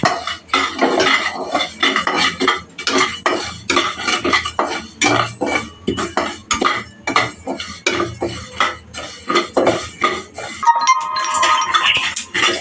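Parboiled rice being fried and stirred in a pan for garavuntalu, with a steady run of metal spoon scrapes and clinks against the cookware, close and fairly loud, ending in a brighter sustained clatter.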